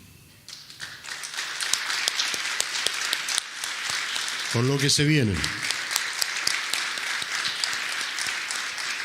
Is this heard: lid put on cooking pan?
no